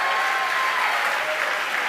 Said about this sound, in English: As you can tell, the crowd here at SpaceX is extremely excited.